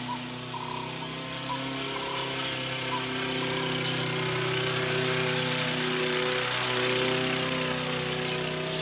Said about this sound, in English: Is this the final boss of lawnmowers?